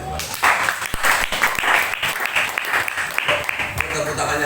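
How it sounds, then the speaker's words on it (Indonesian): Enthusiastic applause from a congregation at an Indonesian church worship service: dense, loud clapping that holds steady for several seconds, with sharp individual claps popping out of the crowd. "Baru sekali saya dengar tepuk tangan yang palas."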